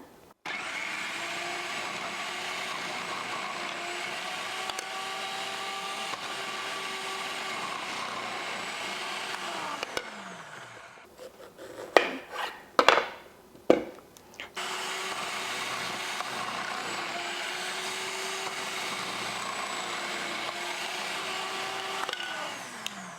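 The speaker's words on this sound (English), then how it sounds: "We'll just put it on high and pop the zucchini right in." A food processor on high whirs loudly and steadily while grating zucchini, the motor briefly cutting out midway with a few clattering knocks and bumps before the grating drone resumes at full strength.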